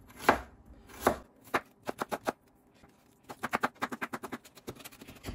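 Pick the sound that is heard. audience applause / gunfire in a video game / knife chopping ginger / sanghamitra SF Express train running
knife chopping ginger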